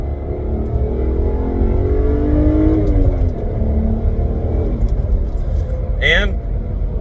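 BMW E90 328i accelerating heard from inside the cabin, a steady engine drone rising in pitch through the gears with a low rumble underneath, with people talking over it.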